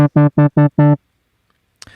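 A dry synthesizer in Ableton Live, played with no reverb, gives five short, clipped tonal notes in quick succession. Each stops abruptly with no tail, and silence follows.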